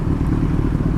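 Kawasaki ZX14R motorcycle engine rumbling loud and close, a dense low throb held steady for a moment.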